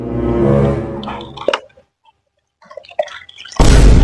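Drinking water from a small metal pot, heard as distinct plops and drips that follow a tonal passage, with a short silent gap, then a sudden loud burst of sound at the end.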